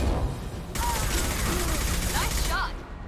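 Rapid gunfire from a Mass Effect 2 firefight, a dense burst of shots lasting a couple of seconds that stops suddenly, with a voice speaking faintly through it.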